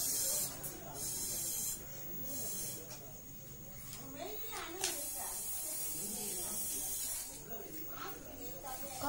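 Air hisses steadily out of a balloon powering a homemade toy car, a continuous spraying rush with faint background noise and no voices.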